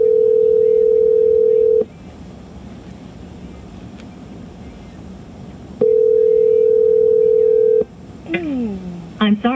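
A telephone call tone sounds as two long, steady tones separated by a quiet gap of about four seconds, followed by a few brief warbling electronic sounds at the end.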